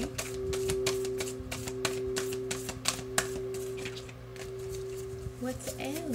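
Oracle cards shuffled by hand: a steady run of quick, papery taps and riffles over about six seconds, with a constant low hum underneath and a voice faintly present.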